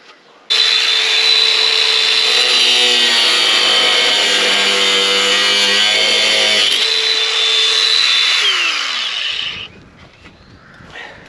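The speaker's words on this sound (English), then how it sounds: "Grinder time." Angle grinder cutting on an old cross member of a V8 recovery truck, a loud steady high-pitched whine with grinding noise for about nine seconds, then spinning down and stopping.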